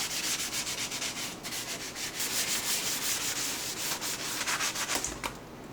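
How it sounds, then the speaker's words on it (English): Steady rhythmic scrubbing on a porcelain surface, a close, fairly loud rasping rub repeating in quick strokes for several seconds with no talk. "is it rubbing off a layer of porcelain?"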